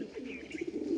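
Female pigeons of a black-tailed or red-tailed fancy breed give soft, low cooing, a steady murmur close by with faint chirpy notes above and no voices.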